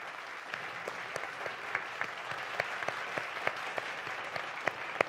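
Warm applause for award recipients at an online research and innovation awards ceremony, steady scattered clapping at moderate distance throughout.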